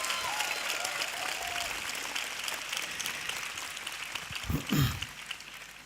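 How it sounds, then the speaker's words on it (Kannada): Audience applause at a satsang with Sri Sri Ravi Shankar: a steady, dense patter of many hands clapping throughout, with a brief low thump near the end. "ಪ್ಲೀಸ್ ಜೋರಾಗಿ ಚಪ್ಪಾಳೆ ಬರಬೇಕು"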